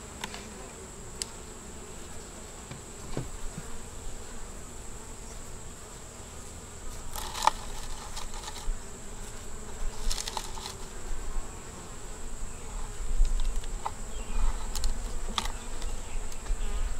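Honeybees buzz steadily around an open small nuc hive with a young yellow queen, a close, continuous insect drone with occasional louder passes near the microphone and no talking.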